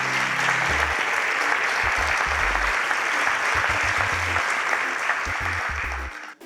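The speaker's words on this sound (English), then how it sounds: "Please, a round of applause for Team Earth." An audience applauds Team Earth at a business innovation challenge, a loud, sustained wash of clapping from a large crowd with a few deep thumps, fading out at the end.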